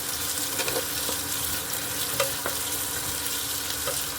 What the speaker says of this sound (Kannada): ಈರುಳ್ಳಿ ಎಲ್ಲ ಫ್ರೈ ಆಗಿದೆ